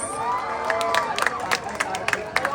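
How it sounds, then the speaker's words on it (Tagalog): A crowd at the Queen of Ilagan 2025 pageant claps and cheers for actress Erich Gonzalez, with shouts and whoops rising over steady applause and a lively, festive murmur of voices. "sabay-sabay palakpakan at sigawan si Miss Erich Gonzalez"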